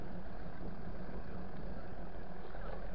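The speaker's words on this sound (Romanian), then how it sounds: "Opriți motorul cât staționați," A car engine idling while stopped on the climb to Bâlea, a steady low rumbling drone with constant hum, close and unbroken, no voices over it.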